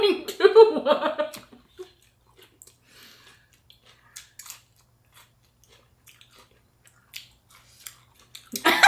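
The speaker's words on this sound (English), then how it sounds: "How are you chewing too?" Close, crunchy bites and chewing of shrimp and spring rolls during a seafood mukbang: a loud burst of chomping up front, then sparse soft mouth sounds and a louder bite near the end.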